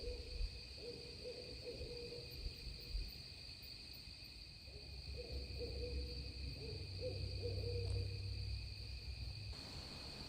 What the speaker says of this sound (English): I'm hoping to hear the owl. He's been making sound.